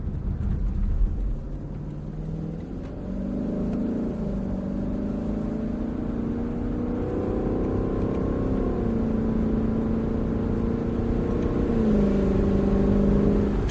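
A Lexus engine revs steadily with a continuous rumbling drone, its pitch rising and dropping through downshifts and climbing again toward the end, fairly loud and close with no voices over it.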